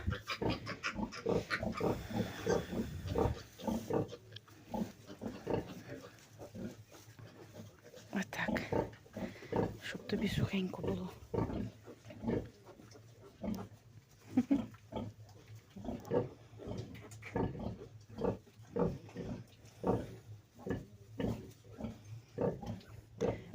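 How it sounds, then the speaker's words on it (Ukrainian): A sow nursing her newborn piglets after farrowing gives a long series of rhythmic, close grunts in steady bursts, while someone talks over them in a quiet farm pen. "Чуєте, як вона хро-хро-хро-хро"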